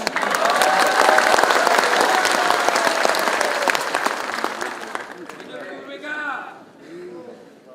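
Loud, dense applause from an audience fills most of the clip, then thins out into scattered claps and murmuring voices near the end.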